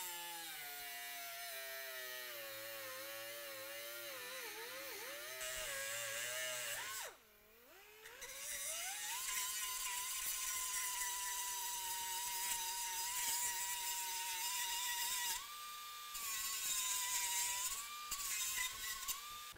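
A power saw makes a straight cut across a steel part from a 4.5-inch lift kit on a 2014–2017 Chevy GMC 1500 4WD, a loud continuous whine that briefly dips and shifts pitch as the blade bites.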